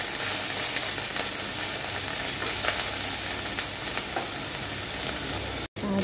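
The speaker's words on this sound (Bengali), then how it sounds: "এখন আমি মশলাগুলোকে খুব ভালো করে কষিয়ে নেব।" Spices for a mustard hilsa fish curry sauté in a pan, giving a dense, continuous close sizzle with faint stirring scrapes throughout and a brief drop out near the end.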